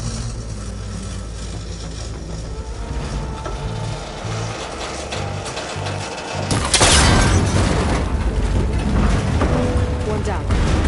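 In a video game, a cable connector on a rickety ancient tower is shot until it breaks: mechanical clanking and rumbling, then a sudden loud burst of impact and crashing noise about two-thirds through, under some background sound.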